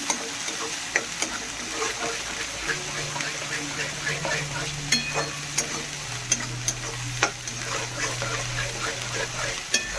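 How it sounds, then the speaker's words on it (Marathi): Roasted masala stirred in hot oil in a pan: a steady close sizzle runs throughout, broken by light repeated scrapes and taps of the spoon, with a low hum in the background and no talking. "भाजलेला जास्त मसाला, पण जरा एकजीव होईपर्यंत थोडासा हलवून घ्यायचा छान"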